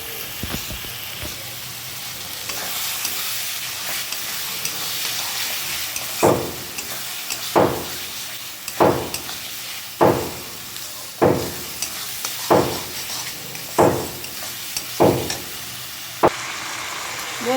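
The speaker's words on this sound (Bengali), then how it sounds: "এখানে মাংসগুলো ছেড়ে নাড়াও হয়ে গেছে" Meat stirred into fried masala in a pan, a low sizzle broken by regular spoon strokes scraping the pot about once a second.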